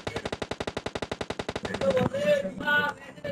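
Gunfire in the PUBG video game: a steady, rapid string of around twenty evenly spaced automatic shots, loud and close, then a ringing, whining sound effect and a muffled voice at the end.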